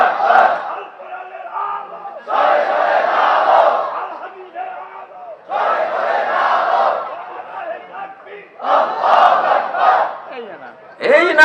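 A crowd at a Bangladeshi Islamic sermon gathering chants the takbir, Allahu Akbar, in four loud, swelling unison bursts separated by short pauses.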